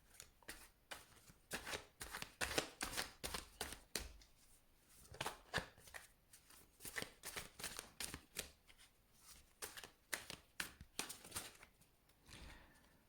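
Tarot cards being shuffled, "True Black" deck, a steady run of crisp riffling and flicking bursts close by, repeated quickly for several seconds with brief pauses and no talk.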